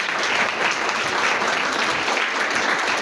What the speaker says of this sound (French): que je vous demande vraiment d'applaudir très fort.